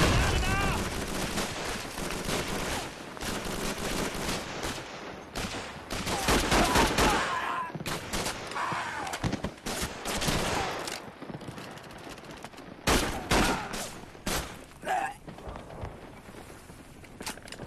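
Rapid gunfire and bursts of automatic weapons fill a World War II battle near the Laison River in France in the Call of Duty 3 video game, loud and continuous, with voices shouting amid the shooting.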